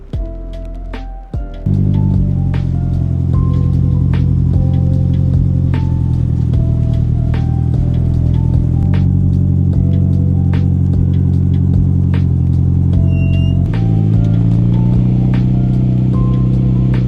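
A Nissan R32 with an SR20 engine starts and settles into a loud, steady drone close by, with the pitch shifting as the car pulls away and changes gear.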